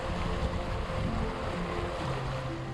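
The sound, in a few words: waves on a lake in cold strong wind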